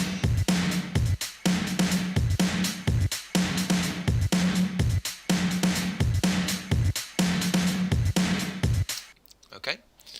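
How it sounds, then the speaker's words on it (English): A compressed drum kit groove with punchy kick and snare hits in a steady rhythm, loud and dense, cutting off near the end. "So the drums now sound like this."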